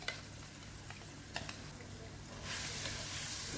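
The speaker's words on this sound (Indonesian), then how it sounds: "Kita mau menumis bumbu yang udah dihaluskan." Ground spice paste sautés in hot cooking oil, a soft crackling sizzle with a few sharp pops and stirring scrapes, swelling into a louder, steadier hiss about two-thirds through.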